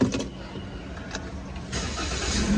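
A 2022 Toyota Veloz 1.5 with push-button start cranks and fires up, then settles into a steady, moderately loud idle close to the microphone.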